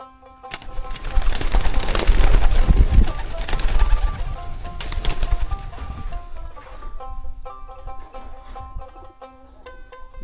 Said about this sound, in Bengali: কবুতরও আছে দেখি।